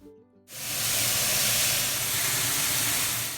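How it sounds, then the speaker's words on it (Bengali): Chicken hits a hot frying pan after a brief quiet moment, and a loud, sustained sizzle takes over and continues steadily to the end. "এই চিকেনটাকে আজ আমি ফ্রাই প্যানেই করে নিচ্ছি"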